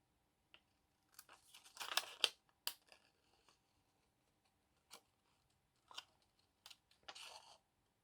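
Scissors cut a paper figure out during a papercraft project, with scattered faint snips and crinkles of paper in short bursts separated by quiet pauses, and no talking.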